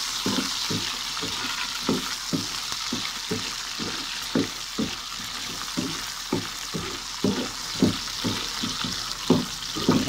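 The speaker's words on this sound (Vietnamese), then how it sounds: "Dầu nóng rồi mình sẽ cho cái hạt ba chỉ vô nha các bạn." Pork belly pieces sizzle steadily in hot oil in a home kitchen, a continuous bright hiss broken by regular soft clatters of stirring, close and fairly loud with no talking.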